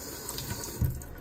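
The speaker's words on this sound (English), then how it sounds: "go to the sink or like get a bowl or something and wet the paper towel" Water runs from a sink tap to wet a paper towel for a small indoor greenhouse, a low steady wash of flow with a brief louder splash near the end, nearby and moderately quiet.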